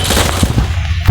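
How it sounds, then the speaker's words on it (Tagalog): Gunfire in the Roblox game Life in Prison comes as loud, rapid bursts of close shots that rattle together almost without pause. "ang lakas ang baril niya"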